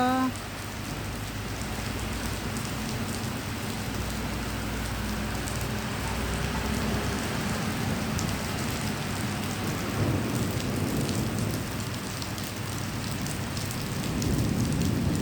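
Heavy rain pours steadily with rumbling thunder rolling underneath, a dense continuous downpour that swells again toward the end.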